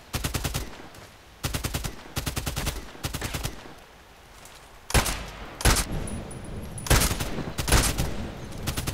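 TKPD Storm carbine firing in Contract Wars, sharp bursts of rapid automatic shots in several separate volleys with short pauses between them, loud and close, followed by heavier, irregular single and paired shots.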